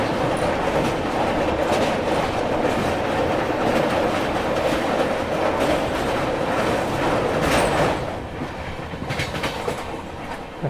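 A Shatabdi Express on the Delhi–Bhopal line races along the rails at about 150 km/h, a loud, steady rumble with rapid wheel clatter that eases slightly in the final seconds.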